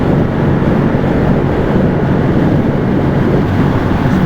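Steady, loud rushing wind roars over a microphone while riding a Ducati Streetfighter motorcycle, with a constant broadband buffeting that continues without a break.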